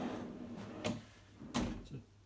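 Under-bed storage drawers slide shut, giving two distinct knocking thuds, one near the middle and a louder one later, over a faint background hum.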